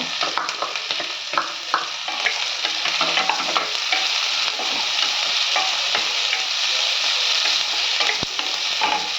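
Green chillies and ginger fry in hot oil for poori masala, giving a steady, close sizzle and crackle with scattered pops and faint stirring throughout, no voices.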